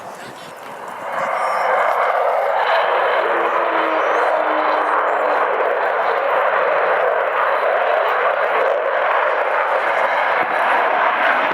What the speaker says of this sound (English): Sound you heard as the Rolls-Royce Olympus engine spooled up is the famous Vulcan howl.